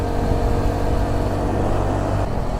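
A TVS XL 100 Heavy Duty moped cruising steadily at about 40 km/h, its small engine droning in a constant, loud, unbroken hum mixed with road and wind noise for the whole stretch.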